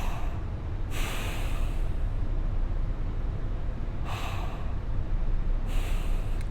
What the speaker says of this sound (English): just deep breathing.